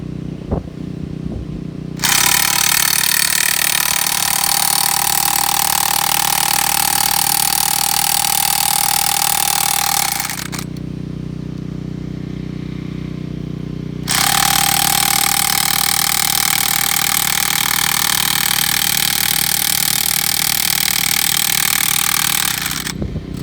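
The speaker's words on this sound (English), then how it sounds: "First we'll start the generator. Generator's on." A portable generator runs steadily on a job site for chain-link fence screw post installation, a loud continuous engine drone with a broadband roar that drops away for a few seconds midway and then returns.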